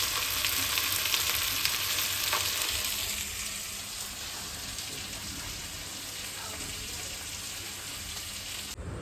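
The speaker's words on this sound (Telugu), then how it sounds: "చేపలు ఫ్రై చేస్తాము." Fish frying in a pan, a dense, loud crackling sizzle that holds steady throughout, with faint background voices now and then.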